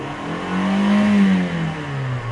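A 2018 Toyota Camry engine with about 39,500 miles revs up loud and close, its pitch climbing smoothly and then easing back down as the rev fades.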